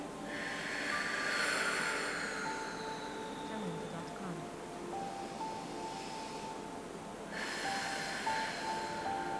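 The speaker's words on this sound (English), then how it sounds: "And breathe." Slow, deep breaths during a yoga pose: a long, audible exhale, a quieter pause, then another breath near the end, over a soft steady background hum.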